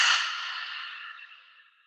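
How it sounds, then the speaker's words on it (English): A long, slow breath exhaled during a meditation, a soft airy whoosh that starts fullest and trails away gradually over about two seconds, close and alone with no talking. "Exhaling."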